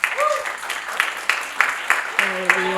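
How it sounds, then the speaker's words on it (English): Scattered applause from a small crowd at a genocide victims commemoration event, a steady patter of claps with a few louder hits, with some voices mixed in near the end. "If you guys could just give a round of applause to our founder."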